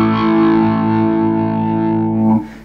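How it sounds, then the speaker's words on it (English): An electric guitar played through an Electro-Harmonix Stereo Talking Machine envelope filter pedal sustains one loud, distorted, vowel-like filtered tone, then is abruptly cut off near the end, with no voices. "now I've got my guitar plugged into the Electro-Harmonix stereo talking machine, which is basically an envelope filter that allows me to create human vowel sounds"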